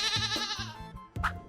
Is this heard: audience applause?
no